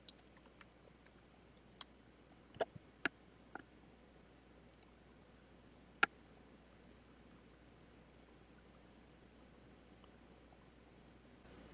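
An address is typed on a computer keyboard: faint, sparse key taps and a few clicks in a quiet room, with a louder single click partway through and a long stretch of near-silence after.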